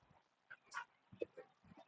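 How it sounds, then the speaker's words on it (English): A tame wolf whines in short, high, wavering cries, close by and fairly faint, broken up by brief pauses. "So that whining that Gray is doing right now"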